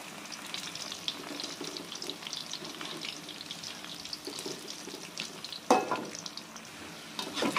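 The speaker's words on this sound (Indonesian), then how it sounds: "dan kita lanjutkan penggorengan sampai selesai" Purple eggplant pieces fry in hot oil in a pan for Indonesian sambal terong, a steady crackling sizzle throughout with a brief utensil clatter partway through.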